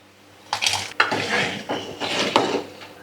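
Metal pot and utensil clatter while jaggery goes into boiling tamarind rasam (bellam charu) in a home kitchen: several sharp clanks and scrapes over a steady bubbling, close and fairly loud, no talking.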